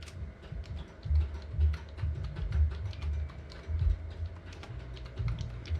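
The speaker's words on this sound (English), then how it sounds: "I'm going to type in what I'm saving it under" A file name being entered on a computer keyboard: quick, light key clicks in irregular bursts, close and fairly quiet over a low background hum.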